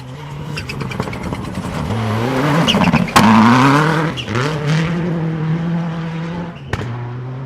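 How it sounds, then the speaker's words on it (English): A Libra Racing Mitsubishi Evo rally car tears through a stage at the 2012 Oregon Trail Rally, its engine revving hard and rising through gears with sharp shifts and loud, close acceleration. "one of the Libra Racing Mitsubishi Evos"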